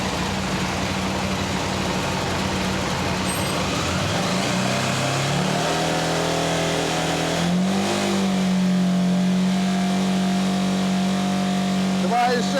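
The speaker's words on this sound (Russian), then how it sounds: "Сейчас мы, как по мануалу, поднимем обороты до 6000" KTM LC8c motorcycle engine with 54,000 on the original oil pump, held at a steady mid-pitched drone, then climbing in pitch around eight seconds as the revs rise to a sustained higher hum near 6000 rpm, loud and close throughout.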